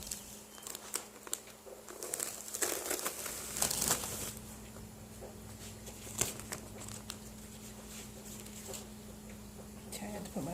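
A Chalk Couture adhesive transfer sheet is peeled back by hand from two corners while repurposing an old picture frame, giving soft crinkling and light tearing rustles in short bursts over a steady low hum, close and fairly quiet.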